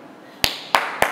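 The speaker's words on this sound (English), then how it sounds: "Now we, what we do is we clap." Three sharp hand claps spaced about a third of a second apart, close and distinct against a quiet room background.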